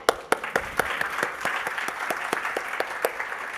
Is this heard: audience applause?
yes